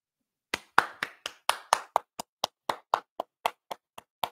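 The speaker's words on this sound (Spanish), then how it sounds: "Denle los aplausos ahí a Jamaica, al pueblo jamaiquino." Audience applause at a Dominican political gathering, heard as a short run of about fifteen distinct, fairly loud claps in a steady rhythm, sparse and close, with no talking.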